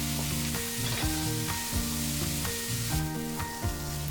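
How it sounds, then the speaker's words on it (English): Onion, garlic and chopped green chillies sizzle steadily in a frying pan, a dense continuous crackle with a rhythmic pulse from stirring, close and loud throughout. "fry this until the onion is nice and light brown"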